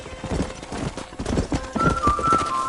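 Clip-clopping horse hooves in the Red Dead Redemption video game, a brisk close rhythm of hoofbeats heard nearly alone, with a faint whistle-like tone near the end.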